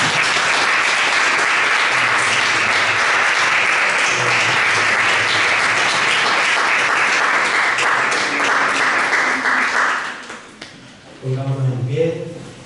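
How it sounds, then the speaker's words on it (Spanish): A church congregation breaks into loud, dense applause that holds strong for about ten seconds before fading, after which a voice speaks briefly. "Dale un fuerte aplauso."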